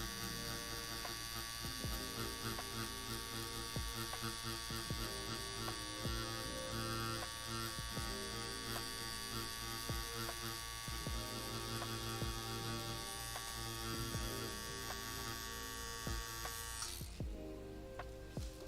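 A tattoo machine drives its needle during flower and skull practice work, giving a steady, close electric buzz with a strong hum that runs nearly the whole time and cuts off just before the end.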